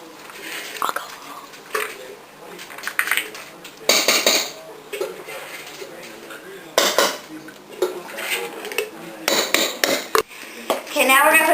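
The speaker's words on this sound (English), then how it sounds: "I'm just stirring this up while she puts it in using a fork" A fork clinks and scrapes against a bowl while tuna is stirred into noodles and mayonnaise, giving irregular clattering bursts with soft mixing sounds in between, close and fairly loud, with voices talking at times.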